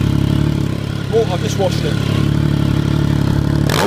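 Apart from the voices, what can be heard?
Triumph GT 1050 SE motorcycle engine running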